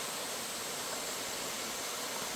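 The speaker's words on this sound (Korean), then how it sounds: "물이 제법 졸졸졸 흐르는데" Small mountain stream beside a temple entrance trickling steadily, a continuous soft broadband wash of flowing water, close and even, with no voices.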